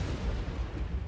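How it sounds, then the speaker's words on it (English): An explosion in the video game Dead by Daylight, a deep, muffled low rumble that lasts about a second, with no sharp crack at the start. "Wait for the explosion"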